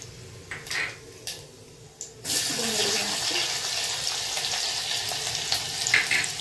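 Whole spices drop into hot oil after a quiet moment, and a loud, close sizzle bursts up and keeps crackling steadily, with faint clinks of utensils near the start and no talking.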